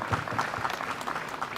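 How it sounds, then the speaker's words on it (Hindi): Applause for parade participants at a Republic Day celebration at a defence academy, a faint, distant, steady patter of clapping from a crowd. "जोरदार तालियां हो जाएं."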